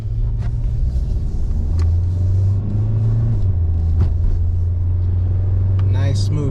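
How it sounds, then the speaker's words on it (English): A cheap used car's engine hums steadily from inside the cabin while driving, its pitch dropping smoothly as it shifts gears, with a few brief knocks and a voice near the end. "Nice smooth shifts."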